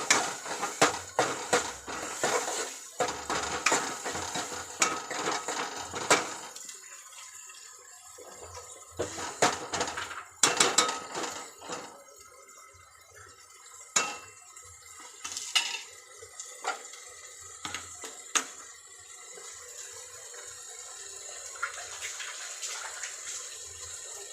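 A spoon stirs ground onion and coconut masala in a metal pan, with scraping and clinking against the pan coming in irregular bursts over low background noise.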